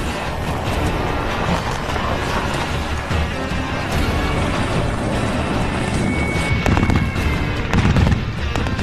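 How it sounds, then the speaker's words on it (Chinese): A heavy machine gun mounted on a Mengshi assault vehicle fires at fixed and moving targets during a military live-fire test, with loud, dense, continuous bursts of gunfire blended with outdoor and vehicle noise. "重机枪手将在新配发的猛式突击车上对固定目标和移动目标进行射击"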